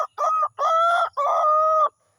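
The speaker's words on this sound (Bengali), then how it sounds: "মোরগটা ডাকছে," A rooster crows three times in quick succession, each call a loud, drawn-out cock-a-doodle-doo from close by, with short gaps between and no other voices.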